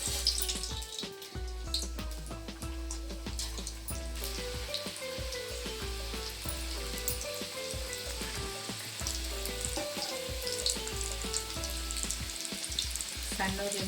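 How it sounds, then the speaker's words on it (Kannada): Karigadabu sweet dumplings deep-fry in hot oil for a festival recipe, a dense, steady sizzle and bubbling that runs throughout at a close, even level, with occasional clinks mixed in. "ಇದನ್ನು ಎಣ್ಣೆ ಕಾದಿದೆ, ಎಣ್ಣೆಯಲ್ಲಿ ಕರಿತೀನಿ"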